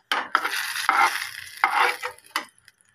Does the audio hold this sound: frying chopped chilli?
yes